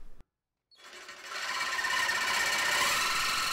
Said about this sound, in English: I recommend cutting the pipe from the inside to the outside